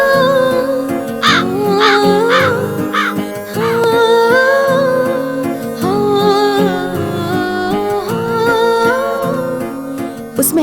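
A crow caws several times in short harsh bursts over a busy backdrop of music, the calls loud and near.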